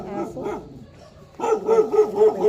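A dog barks in short repeated bursts, pausing briefly before a rapid series of louder, closer barks.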